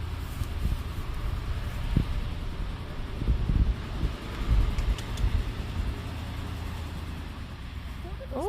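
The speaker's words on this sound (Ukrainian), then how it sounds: "Вітер холодний дує." Cold wind blows steadily outdoors, a low rumbling buffet across the microphone with brief gusts, while people talk nearby.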